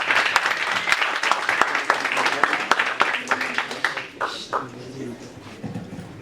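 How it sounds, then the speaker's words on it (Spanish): An audience at a university physics week round-table welcomes an honored guest with vigorous applause: dense, loud clapping with sharp individual claps that thins and fades over the last couple of seconds as voices start to murmur. "Recibámoslo con un fuertísimo aplauso."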